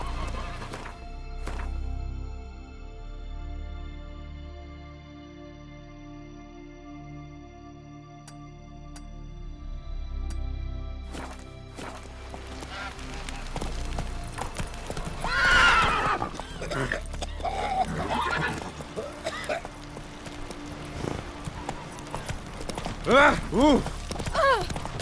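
Roach, the horse in The Witcher 3 video game, gives loud whinnying neighs amid hoofbeats and game ambience, with a voice briefly heard and musical tones early on.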